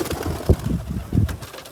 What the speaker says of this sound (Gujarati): હવે ઉડાડી દે બધા કબૂતરને.